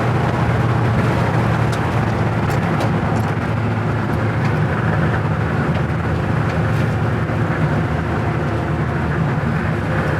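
A 1970 Chevy K10 four-wheel drive truck cruising at highway speed on a windy day, heard from inside the cab as a steady, loud roar of engine, tires and wind.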